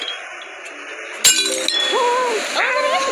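A jar shatters in the video game Cat Simulator 2015, a sudden bright glassy crash followed by clinking shards, heard close and loud over light game background sounds.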